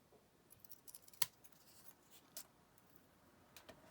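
Scissors snip through stamped card for a junk journal craft, a few faint, close crisp cuts scattered across a quiet room, one sharper snip standing out.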